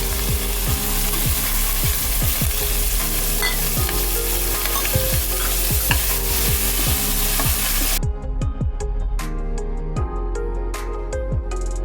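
Onion and ginger garlic paste fry in a pan for a jackfruit seed and chickpea usal, a loud, close, continuous sizzle with rhythmic clicking of a spoon or mechanism. The sizzle drops to a thinner crackle partway through.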